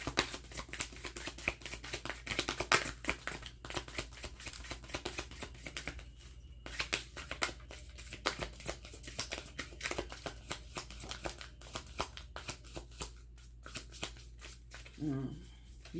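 A deck of tarot cards gets a long, steady shuffle, with quick rustling flicks and soft riffles repeating close up for the whole stretch, fairly quiet.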